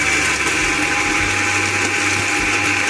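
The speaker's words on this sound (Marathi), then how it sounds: "आता आपण सर्व मिश्रण मिक्सरला लावून घेणार आहोत." A kitchen mixer grinder runs at full speed, grinding a roasted metkut spice mixture with torn bay leaves: a loud, continuous motor whine with a rattling, churning edge that holds steady the whole time, with no voices.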